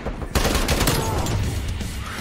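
Rapid gunfire bursts erupt abruptly in Call of Duty Cold War, loud and close, a dense rattling fusillade that carries on for about two seconds after a short quiet lead-in.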